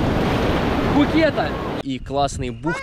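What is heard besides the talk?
ocean waves breaking on a beach in Phuket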